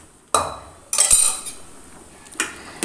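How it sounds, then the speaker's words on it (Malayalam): Drained, boiled tapioca being tipped into a pot on a home kitchen stove, with a few sharp clunks and clatters of a utensil against the pot between quieter stretches, no voices. "ഇനി നമ്മൾ വേവിച്ച് വെച്ച കൊള്ളി അതിലത്തെ വെള്ളമൊക്കെ ഊറ്റി കളഞ്ഞിട്ടുണ്ട് അത് ഇട്ട് കൊടുക്കുകയാണ്"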